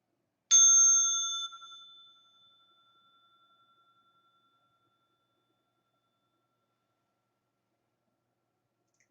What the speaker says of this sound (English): With the next sound of the bell, we can bow to one another